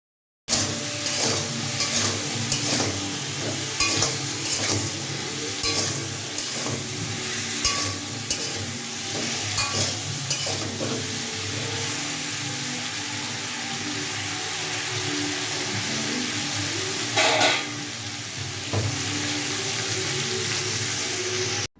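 Drumstick curry with salt and turmeric being stirred in a pan, a continuous bright sizzle and frying hiss with scattered scrapes and clinks of the spoon running steadily throughout.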